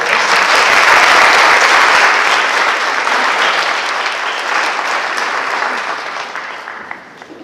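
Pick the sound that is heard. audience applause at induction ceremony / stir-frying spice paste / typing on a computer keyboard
audience applause at induction ceremony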